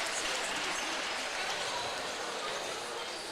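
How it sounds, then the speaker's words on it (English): A high school boys' basketball crowd applauds steadily as officials walk back onto the court, a dense, even clatter of clapping filling the gym. "Official coming back out on the court to the applause"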